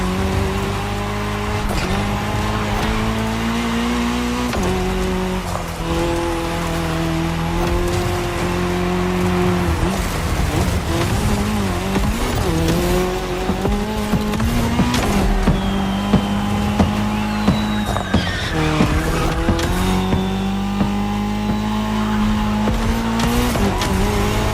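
Race cars in The Crew Motorfest racing on tarmac during a cross-terrain event: continuous engine roar with shifting revs, gear changes and occasional tire squeal, steady and close throughout with no voices.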